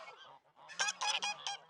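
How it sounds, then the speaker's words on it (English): Geese honking and fussing nearby, a burst of loud, overlapping nasal honks and squawks after a quieter opening of softer calls. "I know y'all probably can't hear me because the geese are fussing so"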